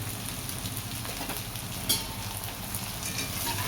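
Pohe (flattened rice) stir-fried in a pan, giving a continuous close sizzle with soft stirring scrapes and one brief sharper clatter partway through; no talking.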